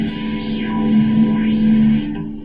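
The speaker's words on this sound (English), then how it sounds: "band plus filter" Band-pass filter effect on a synthesized sound: a sustained buzzy tone whose bright upper band sweeps down and up twice, giving a hollow, resonant, phasing wah over a steady loud drone.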